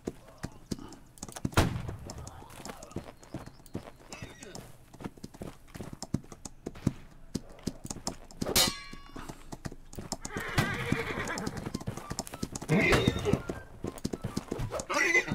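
Horse hooves clip-clopping at a gallop with sharp whinnies in the Holdfast video game during a regimental skirmish, close and busy, mixed with distant musket shots while players talk.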